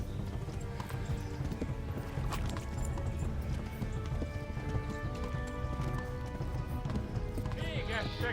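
Horse hooves in Kingdom Come: Deliverance, a steady clip-clop of a horse moving along, with a person talking over the hoofbeats throughout.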